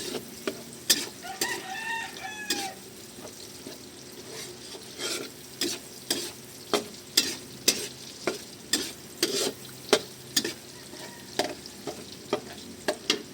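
Aromatics sautéing in a pan before tomato paste goes in, a soft sizzle underneath repeated sharp clacks of a spatula or spoon against the pan in a fairly regular rhythm, with a rooster crowing in the background.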